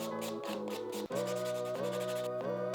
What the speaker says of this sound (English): So now for this one, I am grabbing the 180 grit file, nice and smooth,